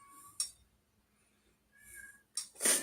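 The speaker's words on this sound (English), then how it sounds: "Damn cat." A house cat meows several times, with short calls spaced across the moment, one near the end louder and stretched, heard alone in a quiet room.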